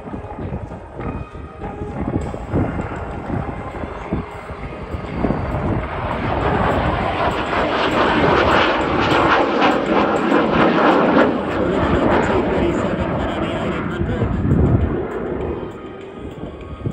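Dragonfly jet aircraft with 6,000 pounds of thrust at the Australian International Airshow, a loud roaring jet rising to a sustained rumbling peak mid-clip before easing slightly, heard from a distance.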